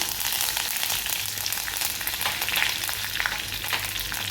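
Cumin, crushed garlic and curry leaves sizzle steadily in hot oil for dal tadka, a dense continuous frying hiss with no talk.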